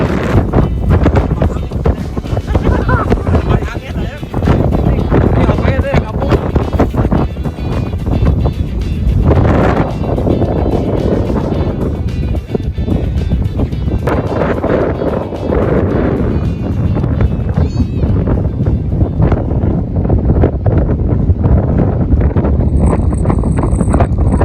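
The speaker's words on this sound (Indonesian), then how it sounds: "Anginnya sangat kencang banget" Strong wind at Sayang Heulang beach buffets the microphone with a constant loud rumble and roar, with surf-like noise mixed in. A person speaks throughout.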